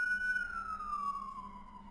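Emergency vehicle siren wailing outside, a single steady tone gliding slowly downward as the vehicle passes, moderately loud and heard alone without talk.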